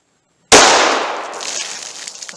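.45 ACP round fired from a full-sized Smith & Wesson handgun into a ballistic box outdoors, a single sharp, loud report after brief silence, followed by a long decaying echo.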